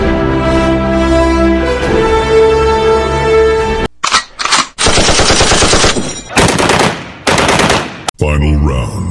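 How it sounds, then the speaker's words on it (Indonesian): A toy AK-47 gun plays its electronic firing effect, loud rapid machine-gun bursts with a tonal musical backing, several bursts separated by short pauses. "lihat senjata Kapten Amerika AK-47."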